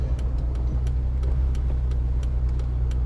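A Fiesta track car with a Puma engine drones steadily with a low rumble while driving, its pitch rising slightly as it revs, heard from inside the vehicle.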